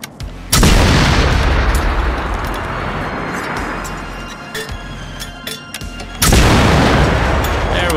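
Rocket explosions tear through an FNIX base in the video game Generation Zero: one loud, deep blast booms and rumbles out for several seconds, then a second heavy explosion hits near the end.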